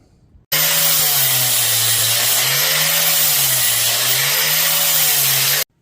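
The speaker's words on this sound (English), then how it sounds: "So now we just got to grind off the outside of that." An angle grinder grinds weld backfill off a repair on a John Deere Model E engine part. The loud, close grinding roar starts suddenly, holds for about five seconds with a slightly wavering pitch as the load shifts, then cuts off.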